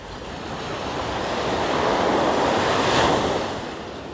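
Strong waves surge and crash steadily against the rocky shore of Lamma Island, with wind buffeting the microphone and no voices over the rushing surf.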